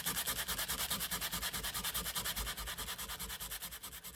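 Hand sanding of a wooden cigar box guitar neck gives a fast, even back-and-forth rasp, each stroke a crisp scratchy rub, repeated rhythmically and close up with no talking.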